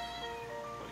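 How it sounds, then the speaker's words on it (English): A kitten meows with a steady, harmonic cry that holds for under a second, close and fairly quiet, with no talk over it. "Kitten's freaking out."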